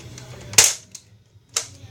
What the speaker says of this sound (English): It's a Nerf Elite gun. It has its own popping.